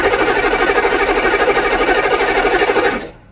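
HMMWV diesel engine cranking on the starter during a compression test with the glow plugs disconnected, a loud, fast rhythmic churning that stops abruptly near the end, with no talk.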